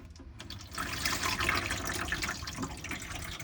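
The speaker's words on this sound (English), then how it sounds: "pour it out down the middle there, and it will drain out through the bottom." Water pours and gurgles into a sink on a Nu Venture Rio Micro 65-foot boat and drains out through holes at the back, making a steady, close splashing and trickling sound.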